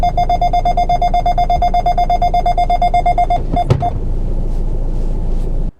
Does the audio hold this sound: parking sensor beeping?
yes